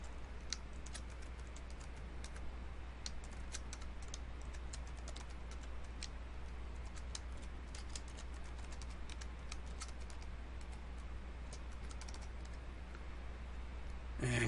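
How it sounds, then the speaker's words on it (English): Quiet, steady typing on a computer keyboard, with rapid light key clicks running continuously over a low background hum, no talking. "I'm going to type in the responses."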